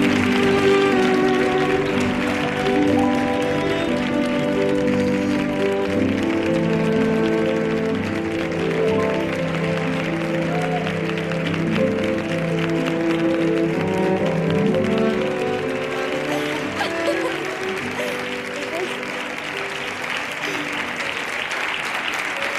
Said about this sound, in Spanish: Que es con este aplauso, Jesús, cuando quiera,